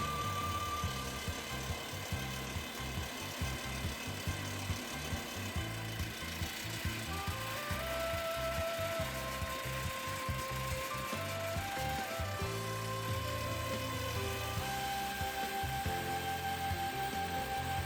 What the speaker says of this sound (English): Drilling activity is so fast for perfect cleanliness inside the hole.